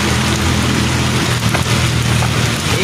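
Heavy rain on the road toward Santa Cruz, Laguna, makes a dense, constant roar, likely heard from inside a moving vehicle with a low engine rumble underneath.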